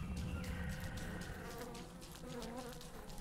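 Faint, continuous insect buzzing from mosquito nests in a survival video game, a soft droning whine that wavers slightly in pitch, with no talking.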